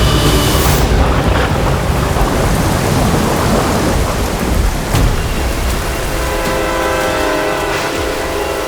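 Heavy rain pours down steadily with rolling thunder in a stormy downpour, loud and dense at first, with a sharp crack near the middle, then easing slightly into a constant wash of rain.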